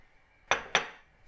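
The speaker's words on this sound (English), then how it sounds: "I'm going to preheat the frying pan with oil" Two sharp metallic clinks ring out close together, like a frying pan being handled on the stove while it is readied with olive oil, in a quiet kitchen with a faint hum between them.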